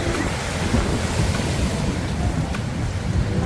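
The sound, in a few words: sea breeze and wind at the beach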